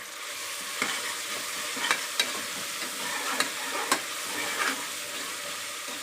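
Chopped mint leaves sauté in a pan for jackfruit biryani, with a steady sizzle under a handful of sharp scrapes and clicks of stirring. No voices.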